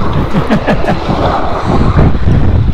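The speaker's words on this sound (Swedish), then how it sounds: "Ja, fruktansvärt blåsigt." Strong gusty wind buffets the microphone outdoors on a boat during a perch fishing trip, a loud continuous roar with rumbling low buffeting and no talk.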